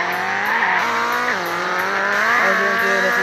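A car drifts with its tires squealing loudly and continuously over a revving engine. The pitch slides up and down as the slide is held and corrected, with no voices.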